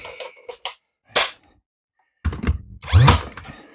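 Battery-powered nail gun fires during tiny house ceiling work, with a few sharp bangs and clacks, a pause, then a louder mechanical burst near the end.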